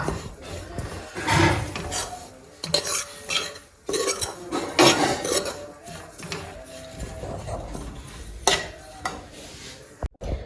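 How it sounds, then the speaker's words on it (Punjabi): Malai and desi sugar are stirred into a coconut mixture for laddoos in a bowl, making close, irregular clinks and scrapes of a spoon against the bowl in uneven bursts, with no talking. "ਫਿਰ ਆਪਾਂ ਮਲਾ ਦਾਂਗੇ ਇਹਦੇ ਚ ਦੇਸੀ ਖੰਡ"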